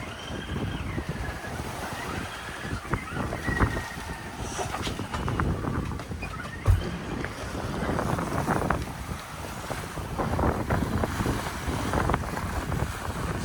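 A sailboat cruises on a very broad reach over small waves. Steady wind rushes across the microphone and water churns and splashes along the hull in a continuous wash.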